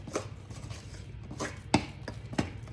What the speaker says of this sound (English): And just going to mix that up